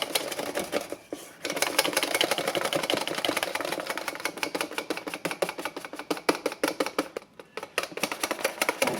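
Cream being beaten to stiff peaks for a no-bake peach cobbler mini cheesecake, a steady close mechanical whir with rapid rhythmic ticking that runs almost continuously, dipping briefly a couple of times.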